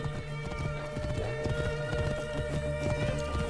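Horse hooves clip-clop steadily in Assassin's Creed Origins, a dense, regular run of close, loud hoofbeats under sustained in-game music, with no talking.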